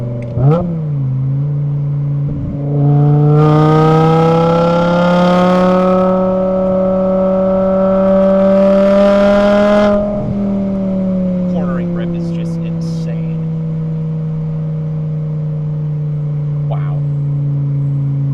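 A custom BMW E61 M5 Touring with a six-speed manual pulls hard on the road, its engine rising in pitch through a long loud acceleration, then easing to a steady cruise.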